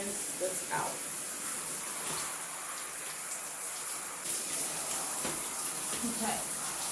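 Water runs and splashes steadily while natural 4C hair is rinsed out, a soft continuous hiss of spray with occasional patters and drips, fairly faint and close.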